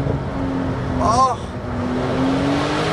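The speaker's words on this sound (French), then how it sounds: "elle a toujours ce bruit de la Turbo S. T'entends les turbos qui sont en train de prendre tout ce qu'il y a autour de toi" Porsche Techart GTstreet R, a turbocharged Turbo S–based car, on the move: a loud continuous engine and turbo roar with a brief rising whine midway. A voice speaks over the noise.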